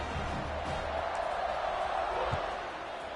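Football stadium crowd roaring at kickoff of an Arizona college game against ISU, a dense, steady wash of cheering and whooping at close range that eases slightly toward the end.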